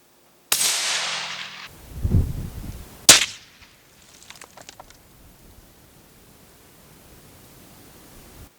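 A single sharp gunshot crack rings out during a shooting test, preceded by a burst of hiss and a low rumble, then fading into quiet outdoor background.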